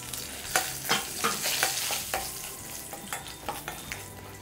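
Pepper, cumin, asafoetida and dried red chillies fry in about 25 ml of hot oil in a pan, with a steady soft sizzle broken by a series of sharp spoon scrapes and clicks as the spices are stirred.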